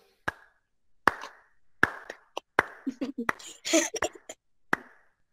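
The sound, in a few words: clapping hands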